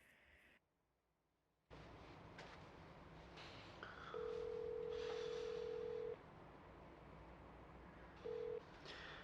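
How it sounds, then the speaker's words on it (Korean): A steady telephone ring tone sounds twice, a long burst then a short one, over faint background hiss. "진호는 다시 케빈에게 이 사실을 알려줘야 한다고 생각하며 그에게 전화를 걸어봅니다."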